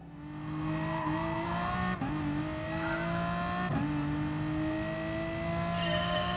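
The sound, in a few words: Aston Martin Vulcan engine in Gran Turismo Sport video game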